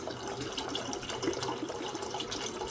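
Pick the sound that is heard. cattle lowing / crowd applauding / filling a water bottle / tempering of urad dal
filling a water bottle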